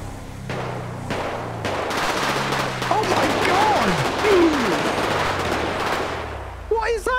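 Gunfire in the OCRP game world, several sharp bursts of shots scattered across the clip over a steady low engine drone and whistling tones, with faint voices now and then.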